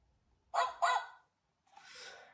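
Cartoon dog barks: two quick, loud yapping barks close together, then a softer, breathier bark-like cry after a short pause, with no talking.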